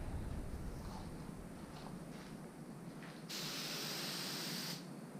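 A paint spray gun hisses out sealer at about 18 PSI while painting mirrors and a panel for a 4th gen Camaro 3.8L, a steady soft background hiss giving way to a brighter, louder spray burst that then cuts off.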